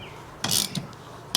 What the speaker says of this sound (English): Just gonna tighten the puller shaft here and see if this will pop this off